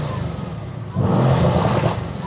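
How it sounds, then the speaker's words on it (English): A Mercedes-AMG C63 exhaust idles with a low rumble, then swells into a short, throaty rev before easing back down. "Car sounds freaking amazing."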